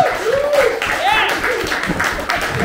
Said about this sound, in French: J'ai pas l'habitude d'être applaudi, c'est très particulier.